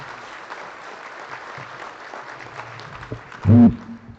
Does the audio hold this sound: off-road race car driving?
no